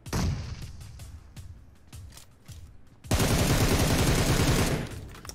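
A UMP submachine gun fires in a video game, with scattered single shots giving way to a loud, sustained burst of rapid automatic fire, all close and dominant.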